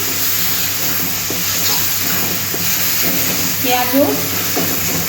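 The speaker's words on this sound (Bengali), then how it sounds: "5 ফোড়নটা ভাজা ভাজা হয়ে গেছে, আমি এবার পেঁয়াজের সাথে মিশিয়ে নিচ্ছি" Panch phoron whole spices fry in hot oil and are stirred into onions, a continuous steamy sizzle and hiss with faint stirring scrapes and a brief louder flare near the end.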